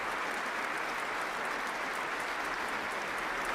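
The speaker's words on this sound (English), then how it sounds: "Everyone in City Hall on their feet in applause" Dense, continuous applause from a large crowd at the Nobel Peace Prize ceremony in City Hall, a standing ovation, fills the whole stretch, an even roar of many hands clapping without pause.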